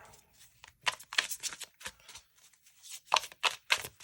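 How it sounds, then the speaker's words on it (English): Brand-new tarot cards being shuffled by hand, a series of crisp riffling bursts separated by short pauses, close and fairly loud with no talking. "I'll do one more shuffle here."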